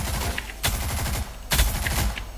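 Rapid automatic gunfire at targets in the video game Rogue Company, two loud bursts of shots about a second apart, punchy and close.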